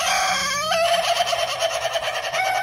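Laughing chicken on a farm giving a loud, close, rapid cackling call that stutters on in a steady pulsing chatter for a couple of seconds.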